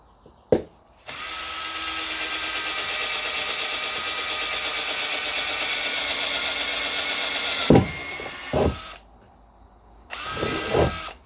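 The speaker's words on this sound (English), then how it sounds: "get the skill saw in there to cut" A cordless circular saw whines steadily through a long cut in plastic lasting several seconds, then stops; a few short bursts and knocks follow near the end.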